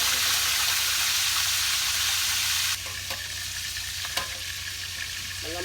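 Chicken steak sizzles and fries steadily in a pan, a dense continuous hiss that drops slightly partway through, with a few light clicks and stirring knocks near the end.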